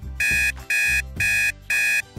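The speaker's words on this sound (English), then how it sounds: "An alarm is going off." A bedroom alarm clock goes off loud and close, sounding four evenly spaced electronic beeps in a steady on-off rhythm.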